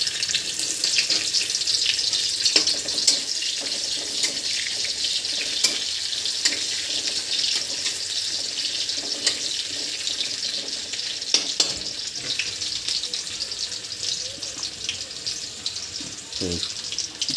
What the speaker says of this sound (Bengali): তো এখন কড়াইয়ে দিয়ে দেব একটু পেঁয়াজ কুচি